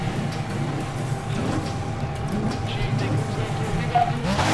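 Racing car engines roar steadily in a Midnight Club 3 street race, a continuous loud drone with shifting pitch and occasional tire noise, no talk over it.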